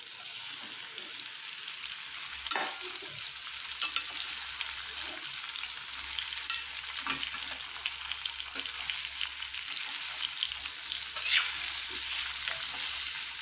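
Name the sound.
amla gooseberries sautéing in pan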